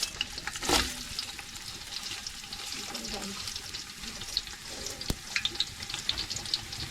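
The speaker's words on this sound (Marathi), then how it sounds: "आता हा कांदा टाकत आहे कांदा टाकायचा अजून" Onion frying in oil with a bay leaf in a pot over a wood-fired clay stove for village-style dum biryani, a steady close sizzle with occasional stirring clinks and splashes throughout.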